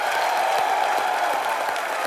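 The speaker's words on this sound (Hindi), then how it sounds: "एक बार प्रियंका और उमंग कुमार के लिए जोरदार तालियां" Studio audience applause at a live comedy talk show taping, a steady, dense wash of clapping filling the room for about two seconds with no voices over it.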